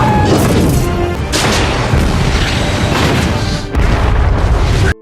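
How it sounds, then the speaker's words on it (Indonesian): A military aircraft crashes and explodes in an Avatar battle scene, loud continuous booming and crashing rumble filling the whole stretch, with a brief dip before another heavy blast. "Akhirnya pesawat itu jatuh dan meledak."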